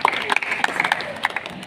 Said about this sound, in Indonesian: tepuk tangan dulu untuk Kak Debbie ya